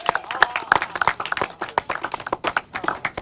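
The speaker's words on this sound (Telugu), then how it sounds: "గట్టి కొట్టాలి క్లాప్స్" An audience claps for a young singer after a devotional Christian song. The clapping is brisk and uneven, with many sharp individual claps in a loose rhythm, close and lively throughout.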